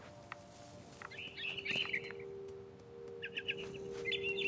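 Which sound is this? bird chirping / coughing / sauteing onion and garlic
bird chirping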